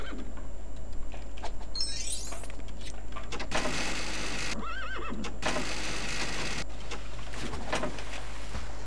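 A horse neighs and whinnies in the Lego Indiana Jones 2 video game, a loud shrill whinny followed by snorting and game sound effects over a constant low hum.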